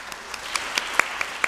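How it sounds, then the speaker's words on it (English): Audience at a spring chamber music concert gives brief applause; a thin scatter of individual claps, a few sharp and close, over a soft wash of hall ambience. "so you can just applaud and just recognize that they're here"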